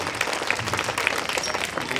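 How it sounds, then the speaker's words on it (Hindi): An audience breaks into steady, dense applause for a leader, a continuous wash of many hands clapping with no pauses and little else over it. "जोरदार ताली हमारे नेताजी के लिए।"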